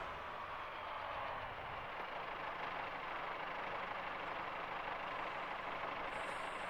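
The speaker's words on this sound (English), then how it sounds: "At about 15 hundredths away, I'm going to go ahead and start braking. And I will do that now." A train in a simulator game on the Riviera Line slows under braking, a steady, loud low rumble and mechanical drone with no clear changes, alone without talk.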